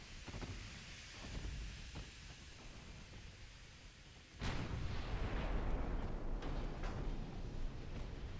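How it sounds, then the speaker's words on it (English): Torpedo hit in World of Warships: after a low rumbling stretch of battle noise, a sudden heavy detonation bursts in and leaves a loud, sustained roar of spray and debris. "Torpedo detonation"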